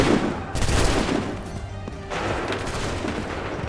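Musket volleys ring out in Assassin's Creed III, two loud ragged bursts of massed gunfire roughly a second and a half apart, each decaying into a rumbling echo.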